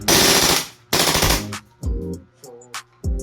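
A gas blowback airsoft rifle fires full auto in two long, loud bursts, followed by shorter clattering bursts and mechanical clacks, close up with no talking.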